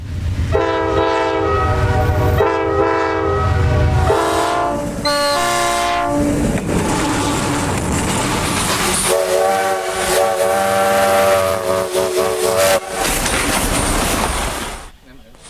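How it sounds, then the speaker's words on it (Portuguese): A long freight train with a lead locomotive fitted with LED headlights passes on the Ferrovia do Aço, sounding loud, sustained horn blasts followed by the rumbling roll and clatter of wagons close by. "Olha lá, trenzão com sua locomotiva líder, com seus faróis de LED."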